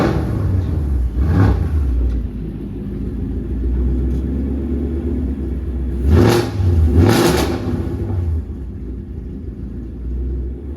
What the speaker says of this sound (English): let's take this car right here and drive it outside